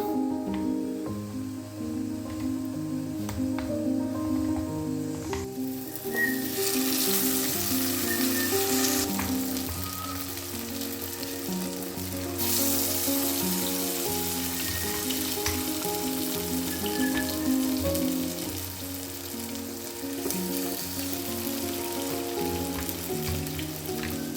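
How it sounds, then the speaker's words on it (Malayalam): Rice-flour orotti dipped in masala and frying in hot oil, a continuous crackling sizzle that swells louder partway through and keeps going steadily, close up, with no one speaking. "നമുക്ക് ഈ ഒരു മസാലയിലേക്ക് നന്നായി മുക്കി നമുക്ക് ഇതൊന്ന് ഫ്രൈ ചെയ്തെടുക്കാം"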